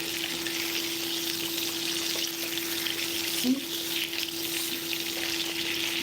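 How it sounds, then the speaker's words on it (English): A fatty beef steak sizzles in a pan beside onions and butter, producing a constant close crackle with one brief clink midway and no talking. "Now I'm going to turn the steak again"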